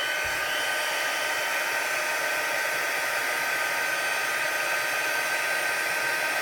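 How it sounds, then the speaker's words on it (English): Constant loud whirring rush of a heat embossing tool blowing hot air while heat-setting a tissue paper technique card, an unbroken steady hiss and hum close by with no talk. "So we'll bring in our heat tool, make a little noise,"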